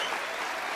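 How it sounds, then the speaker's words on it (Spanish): Studio audience applauding on a Colombian talk show, a short burst of steady, dense clapping filling the moment with no voices on top. "¡Un aplauso!"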